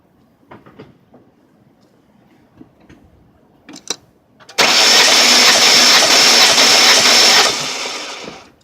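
Ford ZX2 engine cranking over with a compression gauge fitted, a loud steady whirring burst of about three seconds after some light clicks and handling noises, then trailing off.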